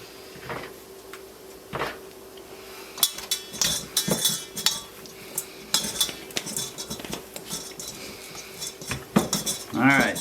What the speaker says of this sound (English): Lori's mixing all the ingredients together